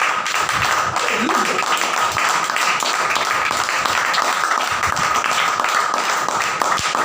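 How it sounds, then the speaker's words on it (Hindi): Audience clapping at a church gathering: a loud, steady burst of many hands clapping continues throughout, with some voices and shouts mixed in beneath it. "यीशु के दाऊद के लिए एक बार जोरदार तालियां।"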